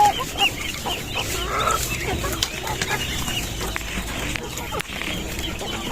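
Brooding hen clucking close by on a farm, repeated low clucks in a steady stream alongside other chicken sounds, fairly loud.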